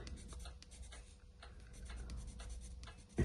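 Soft, scratchy strokes of a colored pencil rubbing across paper, quiet and close, in a steady back-and-forth rhythm with a small bump near the end.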